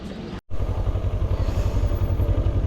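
Motorcycle engine idling close by with a steady low chugging pulse and light mechanical clatter, running continuously after a brief dropout near the start.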